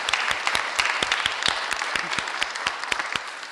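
An audience at a Los Angeles Department of Public Works meeting breaks into applause, a dense run of sharp, overlapping claps that carries on at an even level for several seconds.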